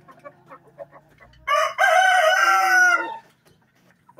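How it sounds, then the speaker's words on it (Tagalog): A Dekal Brown rooster in a breeder cage gives one loud, close crow lasting over a second, preceded and followed by soft clucking and faint background talk. "Ayan yung rooster natin"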